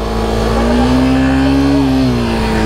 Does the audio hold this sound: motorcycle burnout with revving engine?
yes